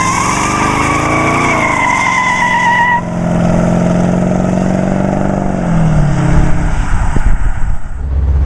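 A 1929 Ford Model A street rod on a drive, its engine note rising and shifting through gears with steady road and wind noise, fairly close and loud throughout.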